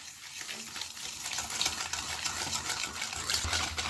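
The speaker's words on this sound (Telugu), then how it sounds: "ఇక ఒక విస్కర్తో బాగా కలిపేసుకోవాలి" A whisk beats oil, sugar and curd into an eggless cake batter in a bowl, making quick, continuous wet scraping and stirring strokes. The sound is close and steady, with no voices.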